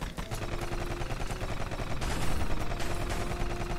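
A gun firing rapid bullets in the game Rusted Moss, as a fast, steady stream of shots over music and game sounds.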